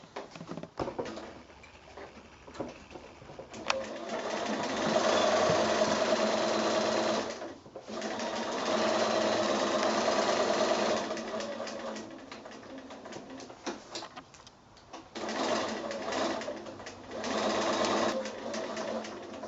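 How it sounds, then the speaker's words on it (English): Velcro is being stitched onto a needle case on a sewing machine, with bursts of close, steady running whir broken by short stops and quieter gaps. "Just stitching on the Velcro onto the back of the needle hook now."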